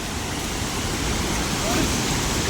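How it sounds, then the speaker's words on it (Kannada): A small waterfall at Mallalli near Sakleshpur pours in a steady, dense broadband rush during the monsoon, loud and close, holding constant without pause. "ಅಲ್ಲಿ ದೊಡ್ಡ ಜಲಪಾತ, ಇಲ್ಲಿ ನೋಡಿ ಮಿನಿ ಜಲಪಾತ"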